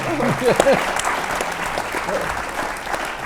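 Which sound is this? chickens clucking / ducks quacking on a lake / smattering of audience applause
smattering of audience applause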